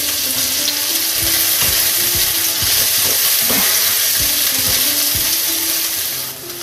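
Chopped onion frying in hot oil in a pan for a vegetable korma, giving a loud, steady sizzle throughout with repeated scraping stirs, no talking.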